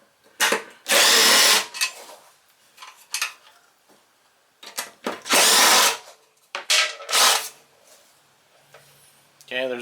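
A ratchet or power driver on a 3/8 inch socket loosens bolts on a Briggs and Stratton push mower engine, giving several loud, close, whirring bursts with clinks and metallic taps between them.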